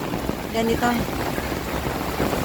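Steady rain falling near the Marikina River during flooding, a dense continuous hiss with someone speaking briefly over it.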